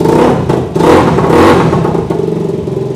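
A Benelli 251S, a 250 cc motorcycle, revs its engine up and down in a loud, close, continuous roar with surging swells and no talk.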